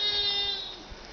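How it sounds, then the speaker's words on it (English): A goat on a farm bleats once in a long wavering call that fades away, close by and moderately loud, with no voices. "There's some of the goats over there."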